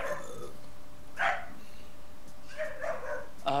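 A dog barks indoors during a live stream, giving two or three short, mid-loud barks separated by pauses over a constant background hiss.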